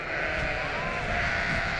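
Sheep bleating on pasture, a group of weaned ewes: a steady, loud, nasal bleat carries on for nearly two seconds, close by, with outdoor background noise and no talk.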